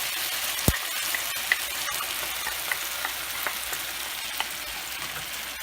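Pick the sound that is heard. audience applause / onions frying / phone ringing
onions frying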